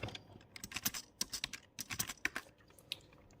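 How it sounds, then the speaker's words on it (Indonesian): Quick, irregular clicks of a computer keyboard as someone types a short Linux command into a shell, the keystrokes close and fairly quiet, with a few small pauses between bursts. "Kita akan ketikkan ini man spasi man."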